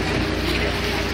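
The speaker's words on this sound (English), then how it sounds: "that little taxi goes across, the gondola goes across the river, back and forth across the canal" Boat engine chugging low and steady on a Venice canal, like a water taxi crossing back and forth, heard up close with a wash of wind and water for about a second, with no speech in it.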